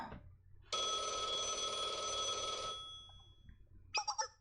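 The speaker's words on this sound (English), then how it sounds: "I got a phone call." A telephone rings in the Blue Archive video game with one loud, sustained electronic bell trill of about two seconds, followed by a few quick bright chime tones, and no voices are heard.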